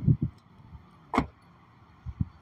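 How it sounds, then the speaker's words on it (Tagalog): The rear door of a 2023 Chery Tiggo 2 full-option SUV is shut with a firm thud. Softer knocks and rattles come before and after it, close by, with no talking. "ipapakita ko sa inyo yung tunog. Ang tunog ng ating pintuan dito ay ganito, di ba?"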